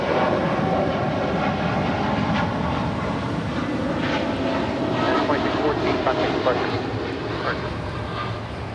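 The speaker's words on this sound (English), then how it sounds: "This is United Airlines Flight 2614 departing to Newark on the 787-10 Dreamliner" A United Airlines Boeing 787-10 Dreamliner departs Los Angeles International Airport, its engines a broad, steady roar that fills the whole stretch at constant loudness without easing off.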